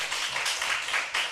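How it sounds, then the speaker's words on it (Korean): Congregation applauding during a Korean church revival service, a steady wash of many hands clapping together without a break, moderately loud and close, with no speech over it. "받으신 분들은 하나님께 영광의 박수 올립니다"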